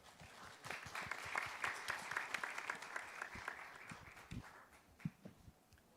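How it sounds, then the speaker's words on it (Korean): Audience at a manufacturing AI pitching day applauds to welcome a presenter, scattered, fairly faint hand claps building into a steady patter and then thinning out over several seconds. "힘찬 박수로 응원해 주시기 바랍니다."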